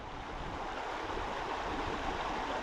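Steady rushing flow of a clear Scottish stream, continuous and close, a broad even wash of water with no talk over it.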